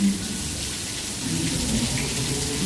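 Rain falls heavily at Epcot as a continuous hiss with a close spattering texture and faint low tones underneath, steady throughout.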